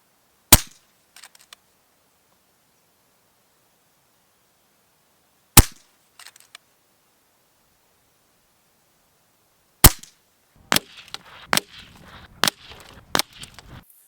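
FX DRS Tactical Sniper .25 caliber air rifle firing: three sharp, well-spaced single shots, then a faster run of five or six cracks, each short and crisp against near silence.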